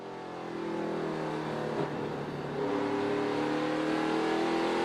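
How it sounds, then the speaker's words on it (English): A NASCAR Camping World Truck Series truck engine at Richmond Raceway revs steadily on the throttle, a loud continuous roar that dips briefly and then climbs again as the driver works the pedal. "Let's listen to John Hunter work the throttle."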